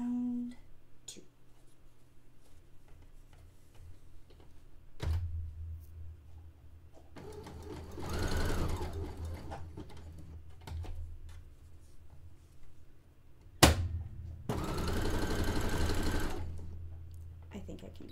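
A threaded sewing machine stitching bed-sheet fabric for a dress, two bursts of rapid whirring motor several seconds long with a sharp clunk between them, close and loud over a low room hum.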